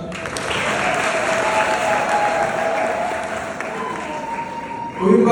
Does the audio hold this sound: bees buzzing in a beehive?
no